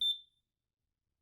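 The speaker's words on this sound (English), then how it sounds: "Eventually, another beep sounded." A single short electronic beep from a plush toy in a video game, clear and fairly loud, then silence.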